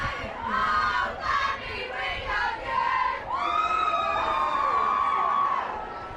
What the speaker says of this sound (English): the excited crowd didn't have too long to wait